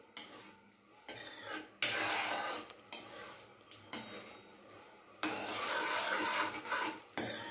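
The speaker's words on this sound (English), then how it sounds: "We shall stir this continuously till we get one string consistency." A spoon scrapes and stirs sugar syrup in a pan while making badam burfi, heard as rasping stirring strokes in uneven bursts, some brief and some longer and louder, separated by short quiet pauses.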